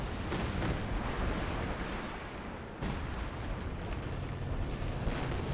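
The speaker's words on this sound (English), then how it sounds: "there's rocket artillery as well coming down" Rocket artillery barrage pounding down in a Company of Heroes 2 battle on Hill 400, a dense, continuous roar of overlapping blasts and rumbling impacts that stays loud throughout, with one brief dip midway.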